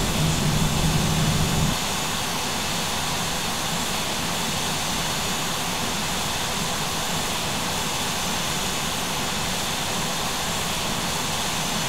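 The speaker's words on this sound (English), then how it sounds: "Aircraft now beginning its turn to the northern side of the island to the waypoint CF." An Airbus A320 cruises in a flight simulator game, descending and turning over an island toward its landing runway; a steady, loud, broadband engine and airflow roar holds throughout with no talk.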